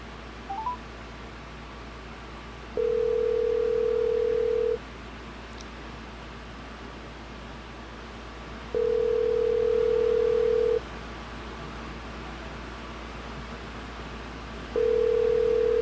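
Three long steady telephone tones repeat at regular intervals while a guest's number is being called, with a short burst of keypad dialing beeps at the start over a constant low hum.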